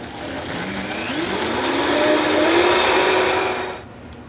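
A Vitamix blender purées roasted peppers, garlic, cava vinegar and olive oil in one loud, continuous motor whir with a rising pitch as the blend smooths out, then cuts off abruptly near the end.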